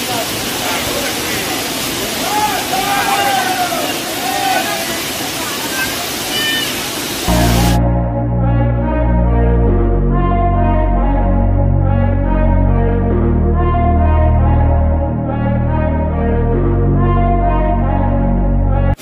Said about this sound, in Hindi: चलो थोड़ा और पास चलते हैं वाटरफॉल के एकदम नज़दीक